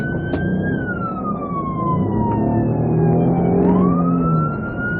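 A loud wailing siren from a hijacked ambulance with medical staff still inside, sweeping slowly down and back up in pitch over road and engine noise during a police pursuit in Macomb County.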